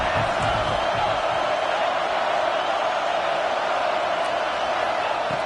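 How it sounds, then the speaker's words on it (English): A football stadium crowd roaring during a playoff game as the defense holds in the red zone, a loud, dense, sustained wall of crowd noise with no breaks. "And the crowd coming to life here trying to help this defense down in the red zone."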